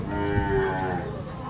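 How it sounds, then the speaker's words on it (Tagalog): A carabao (water buffalo) at a livestock market gives a single deep, drawn-out low, close and fairly loud, with faint market bustle behind it. "Pinarada na ni Boss Ali yung kanyang kalabaw"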